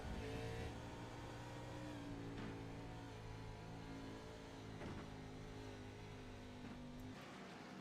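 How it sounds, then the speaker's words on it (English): A Chevy Z01 Camaro race car engine with its throttle gently feathered, a steady mid-pitched droning hum held at a fairly even level with faint variations, heard at a distance. "You can hear him babying that throttle quite a bit, staying off of it, eggshelling it, if you will."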